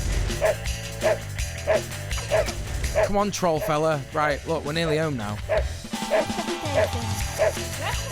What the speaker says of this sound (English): it's a video game dog, so it's fine